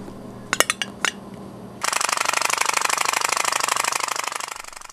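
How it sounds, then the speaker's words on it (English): A few sharp clicks, then a fast, steady putt-putt rattle from a pop-pop steam boat engine, set off by blowing into its pipe, starts abruptly and runs continuously, close and fairly loud, tapering slightly at the end. "Even if you just blow into the pipe, it makes a noise."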